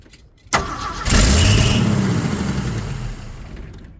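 A 1979 Ford F150 that sat for four years cranks with a sharp click and whir, then the engine catches and roars to life, rising in pitch before settling into a loud rough idle that gradually quiets.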